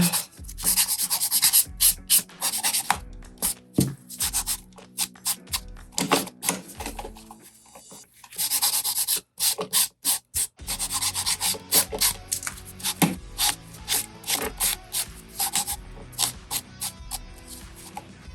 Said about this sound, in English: I'm gonna take my not so new file and scrape off this layer.